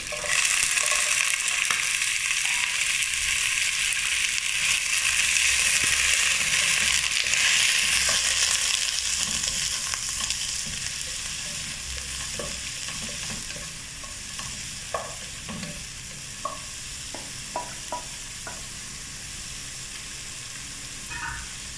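Vegetables and garlic frying in butter for broccoli soup, a steady close sizzle with stirring, louder at first and easing off, with scattered scraping clicks from a spoon in the pan.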